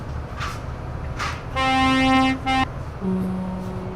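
A car horn honks in the video game Euro Truck Simulator, a long blare, then a shorter honk and a lower second horn follow, over steady traffic rumble.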